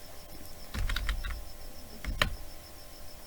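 Bursts of key clicks from a computer keyboard while a formula is typed into an Excel spreadsheet, two quick clusters of taps separated by a short pause, close and clear.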